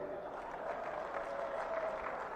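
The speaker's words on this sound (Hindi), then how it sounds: "जोर से ताली बजाओ भाई भूमिका के लिए" Steady applause from a large rally crowd in Bareilly, a dense continuous patter of clapping filling the whole stretch with no pauses.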